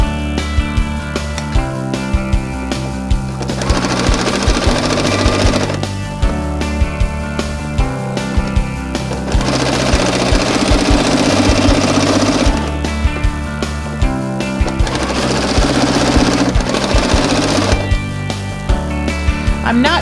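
A sewing machine stitches a quilt seam, with a fast, steady mechanical chatter that runs loud and close in several long bursts separated by brief slower pauses.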